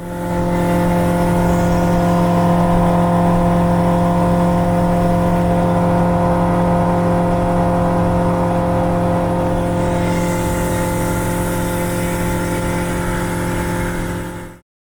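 Turbocharged EDGE Performance Rotax aircraft engine on a RANS S-7S running steadily up close, a loud continuous drone with strong harmonic hum, its tone brightening slightly partway through before cutting off at the end.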